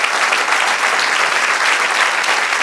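Sustained clapping from a church congregation fills the space evenly, a thick wash of many hands beating continuously at full strength, with no one speaking over it.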